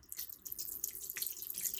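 Vinegar streams from a small packet into a pan in a short, faint trickling pour with a soft watery splash, quiet and close.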